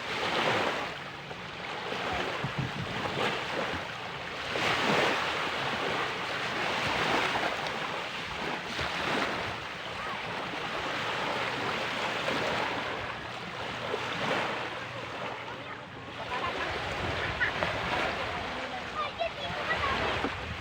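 Sea waves rolling and washing in steadily, with broadband surf noise and some wind buffeting the microphone, no clear speech.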